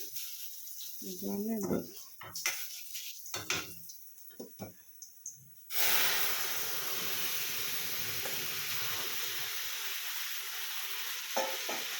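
Bori lentil dumplings fry in ghee with cumin, a sudden loud, steady sizzle and hiss that starts after scattered clatter and a voice speaking, then continues close and unbroken.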